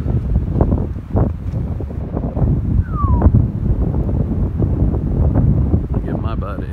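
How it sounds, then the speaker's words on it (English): Steady wind gusting and buffeting the microphone outdoors during a heavy snowstorm, loud and continuous with no clear pauses. "Actually a little breezy out here."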